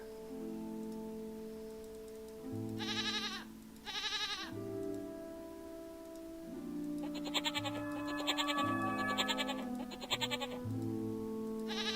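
In the Rusty Lake video game, a goat bleats in several short, wavering calls over a low sustained musical drone, followed by a brighter shimmering chime-like passage.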